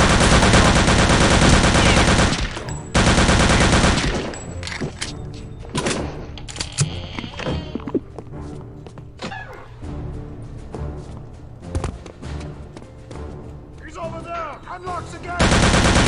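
Rapid machine gun bursts in the shooter game Return to Castle Wolfenstein, loud dense volleys at first, then scattered shots and clatter with quieter gaps and a final burst.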